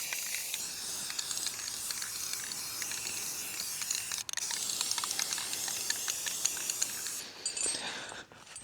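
Black spray paint going over a brown base coat on a canoe and kayak rack, a continuous close aerosol hiss for about seven seconds with a few brief breaks.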